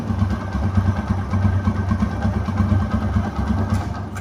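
A TVS Apache RTR 160 motorcycle, a second-hand 160 cc bike, idles close by with a steady, even low engine thrum and faint mechanical clatter, continuous without revving and with no voices over it.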